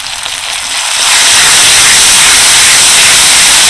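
Two chopped medium tomatoes hitting a pan of onion and ginger-garlic paste for an egg curry, letting out a loud, steady broadband sizzle that swells within the first second and then holds strong and even with no talking.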